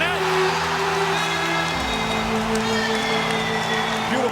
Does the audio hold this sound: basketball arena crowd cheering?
yes